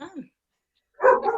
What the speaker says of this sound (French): C'est le chien qui arrive.